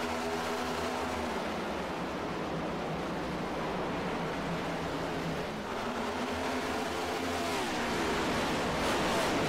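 A pack of sim race cars at Auto Club Speedway roars together in a dense, continuous engine wash at the green flag restart, swelling slightly louder toward the end, with no talking.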